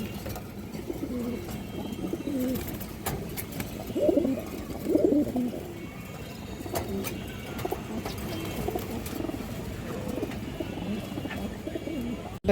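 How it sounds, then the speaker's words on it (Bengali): Pigeons coo in a loft that includes old black male breeder birds, with soft, repeated low cooing phrases close by over a steady background hum and no clear talk. "কালো কালো নর কবুতর এটা আমার একটা একবারে পুরনো বিডার কবুতর"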